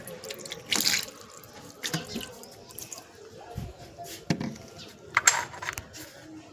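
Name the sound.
water bottle being filled from a tap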